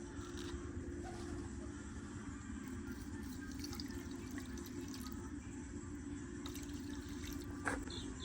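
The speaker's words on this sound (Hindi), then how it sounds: "इसमें डाल देते हैं थोड़ा सा पानी" Water pours steadily for several seconds at a farmhouse while vegetable seeds are being prepared, a continuous close splashing and trickling with a faint drip near the end.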